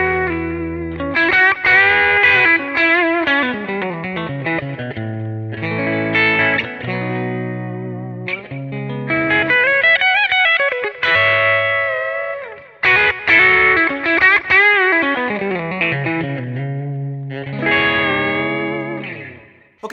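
Stratocaster bridge single-coil pickup through an amp, giving a bright, cutting but thick-toned lead played in continuous phrases with bends and slides over about twenty seconds, with no talking.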